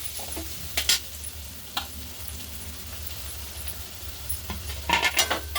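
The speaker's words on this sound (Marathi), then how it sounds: "मिक्स करून घेऊ कोथमीर छान" A spoon stirs fresh coriander into capsicum sabzi frying in a pan. Occasional scraping strokes and light clinks sit over a soft, steady sizzle and a low background hum, with no voices.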